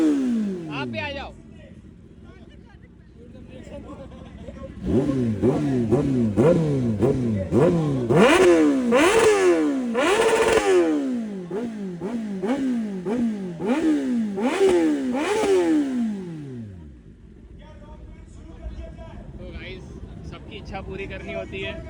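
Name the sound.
superbike engine revving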